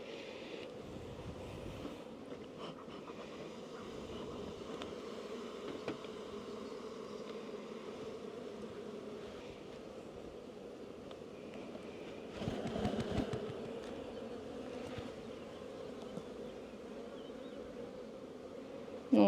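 Honeybees hum on a hive frame, a soft continuous buzzing drone with faint outdoor wind, steady and low in level.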